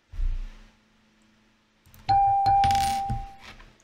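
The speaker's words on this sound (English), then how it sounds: "I'd go flip of a coin." A coin flipped in a game show, landing with a bright ringing clatter and a short spinning wobble that fades, close and loud after a brief quiet pause.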